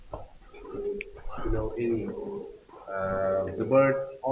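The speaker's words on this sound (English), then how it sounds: "Pigeon." A pigeon coos in a quiet resting place at a Buddhist site in Da Nang, Vietnam, with soft, repeated throaty calls close by, mixed with people talking nearby.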